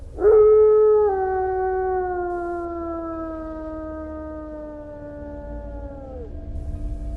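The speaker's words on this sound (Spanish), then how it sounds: "Lo más extraño es que poco después los coyotes comenzaron a aullar" A single long canine howl, as of a coyote at night, rising sharply then holding a steady, slowly falling tone for about six seconds in otherwise quiet surroundings, eerie and moderately near.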